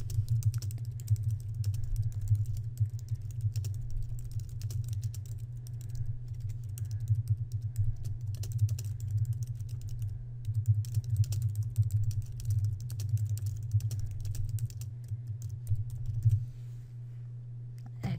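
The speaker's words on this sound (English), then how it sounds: "I'm going to press enter and start typing the next line" Steady, rapid clicking of computer keys being typed, close and continuous over a low background hum, with no talking.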